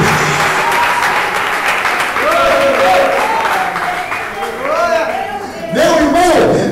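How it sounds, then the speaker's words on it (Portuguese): A church congregation claps and cheers at a sermon, the applause rising and swelling with shouts and excited voices calling out over it, the crowd close and loud throughout. "você pode aplaudir"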